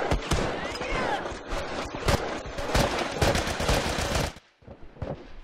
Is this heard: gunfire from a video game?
yes